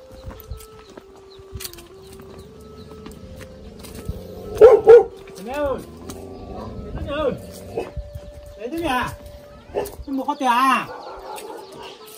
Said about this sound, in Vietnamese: Sủa vang khắp xóm luôn.